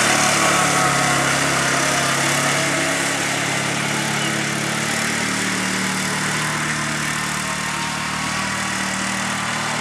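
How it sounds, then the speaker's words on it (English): A 1960s pull-behind lawn mower engine running steadily while cutting grass, a loud, continuous droning roar that stays close and constant, with no one talking. "Still mowing."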